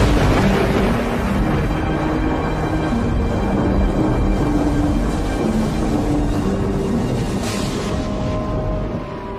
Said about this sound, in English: Storms raged, and the surface of the lake shuddered with the force of the thunder.